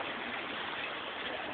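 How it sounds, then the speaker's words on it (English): Water draining from an 8-foot, 3-inch pipe in an aquaponics setup with Dutch buckets, giving a steady, faint rushing trickle with no pauses. "And then the water drains"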